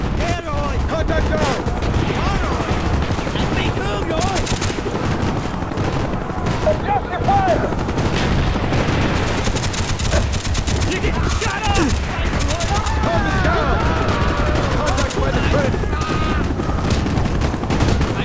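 Rapid sustained bursts of M60 machine gun fire in the Call of Duty: Black Ops video game, loud and dense, with explosions and game voices mixed through the continuous shooting.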